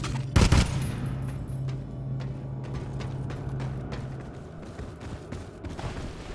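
Gunfire from a newly picked-up weapon in the mobile video game Apex Legends Mobile: a loud, close burst of rapid shots near the start, followed by a lingering rumble and scattered distant game noise.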